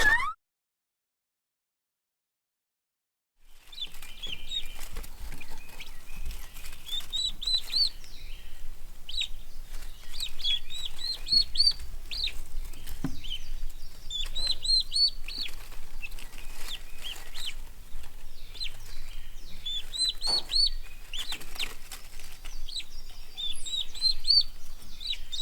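Newly hatched turkey poults chirp in a dense, continuous chorus of high, rapid peeps after a few seconds of silence, close by and steady with no talking.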